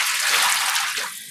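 Water is poured into a pot to soak yarn for dyeing, a bright, rushing splash that runs steadily for about a second, then begins to taper off.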